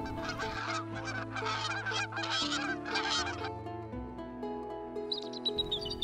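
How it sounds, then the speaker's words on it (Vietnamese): Honking goose-like calls and other bird calls sound continuously in a forest, layered over steady background music, with no speech. "Khắp khu rừng liên tục vang lên tiếng chim hót."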